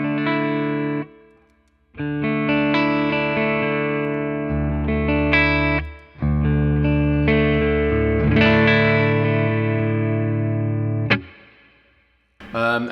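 Electric guitar played through a BOSS Nextone amp with the tone control engaged, sustained driven chords and riffs ringing close with slight chorus and reverb, broken by short pauses.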